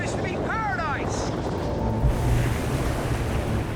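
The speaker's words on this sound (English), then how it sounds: "It's pretty wavy and windy, and we've had quite a lot of rain as well." Wind buffets the microphone over a wavy Indian Ocean seen from a boat, with surf and water rushing throughout, a few bird-like chirps early on, and a low thump midway.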